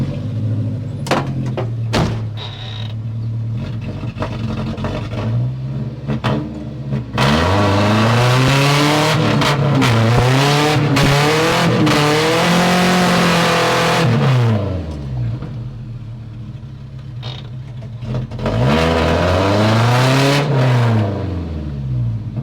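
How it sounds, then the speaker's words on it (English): An engine-swapped 1979 Toyota Corolla revs hard in a burnout attempt, loud and close, with repeated rising and falling engine pulls, short blips early, a long sustained high-rev stretch, then further revving surges. "time to see if this thing will do a nice and proper burnout"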